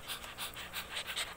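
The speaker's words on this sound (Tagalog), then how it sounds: "yung Milo namin hingal na hingal oh" A pet dog pants heavily and rapidly in quick, rhythmic breaths, close and fairly quiet, with no talking over it.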